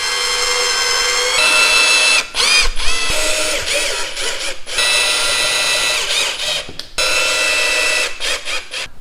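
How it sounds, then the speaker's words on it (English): A power drill bores holes into a wall to mount a plastic strip, whining loudly in several bursts of a second or two, separated by short pauses and ratcheting clicks, close up. "just need to drill some holes and get this screwed on"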